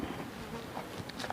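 Honey bees buzzing steadily at a bee farm in Banjaroyo, Kalibawang, a continuous close insect drone with a few louder passes near individual bees, with no talking.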